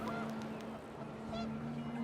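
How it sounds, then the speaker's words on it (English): Panicked geese honk in the video game What Remains of Edith Finch as the wind picks up, several short nasal calls rising over a steady windy game background, with no voice over them. "The wind picked up and panicked geese appeared and quickly went."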